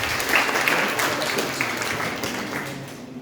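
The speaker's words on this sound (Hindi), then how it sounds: "बहुत अच्छा क्वेश्चन, ताली बजाओ भाई के लिए।" Students in a live session at MITS Gwalior applaud a classmate's good question with a dense, steady wash of clapping that fades slightly toward the end, mixed with some voices.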